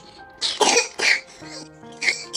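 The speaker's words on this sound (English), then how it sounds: "See the way you are coughing." Several sharp, close coughs in an indoor home setting, about four bursts in quick succession with a short voiced hum between them.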